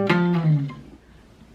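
A short electric guitar phrase in a jump blues style, a quick diminished lick of clear picked notes that ring out briefly and then fade.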